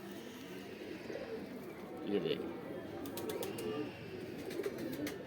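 Pink and two-coloured pigeons coo softly in a loft, low murmuring calls rising and falling at close range while someone speaks briefly over them.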